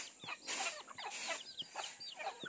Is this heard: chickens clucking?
yes